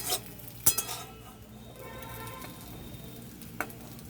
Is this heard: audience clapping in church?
no